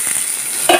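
Soft sizzling of onion and tomato frying in a pan with a quick stirring scrape near the end, brief and close.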